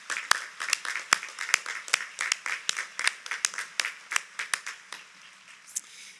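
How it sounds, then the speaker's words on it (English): Audience at a high school graduation ceremony applauding the choir performers, distinct individual claps in an uneven rhythm from a thinning crowd in a large hall, tapering off toward the end. "Let's give our performers again another round of applause."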